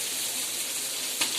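Fish frying in a pan in a home kitchen: a steady, close hiss of sizzling oil with a brief louder crackle near the end, no voices.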